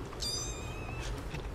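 Growing kittens in a kitty corral give one clear, close, rising-then-falling meow against a low background hum, no talking.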